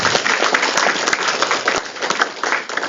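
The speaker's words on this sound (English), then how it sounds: "The entire organizing committee and the committee leaders, Dr. Malaradhya and Shrestha, truly deserve a big round of applause" A college audience at an Engineer's Day 2025 celebration gives a loud round of applause, dense overlapping clapping from many people with a few sharper individual claps standing out, steady throughout.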